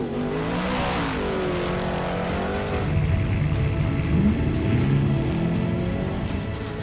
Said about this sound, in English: The OBR racing truck of Bo Robinson leads the line in fourth.